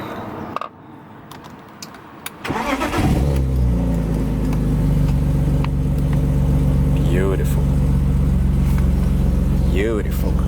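BMW E36 drift build engine cranks briefly, then catches and settles into a loud, steady, slightly rumbling idle close by, with a voice speaking over the first moments.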